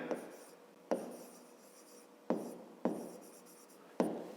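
A pen writing a math equation on paper, with close scratchy strokes and sharp taps marking each new stroke in an uneven rhythm.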